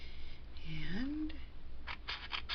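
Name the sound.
scissors cutting paper for a trinket box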